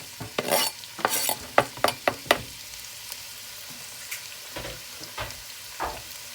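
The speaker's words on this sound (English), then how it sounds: "I'll fry that till it's dark brown." A pan for meatball curry fries on the stove, with close, irregular scraping stirs and clattering strokes over a soft sizzle, busier at first and then sparser.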